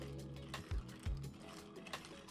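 A bar spoon stirs ice in a mixing glass while a Red Hook cocktail is made. Soft, quiet rattling clicks and a few dull knocks, with no voices.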